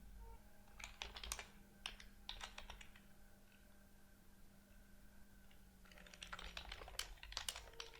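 Typing on a computer keyboard, heard as close bursts of quick key clicks with a pause in the middle, quiet and alone over a faint hum.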